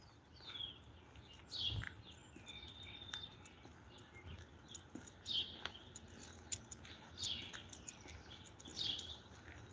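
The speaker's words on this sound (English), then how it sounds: "I just love to listen to the birds." Wild birds singing outdoors near a house and a dam, faint chirps and short whistled phrases scattered at a distance over a quiet background hum, with occasional soft rustles.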